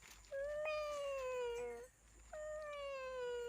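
A voice imitates a cat with two drawn-out meows, the first long and wavering, the second following after a brief pause.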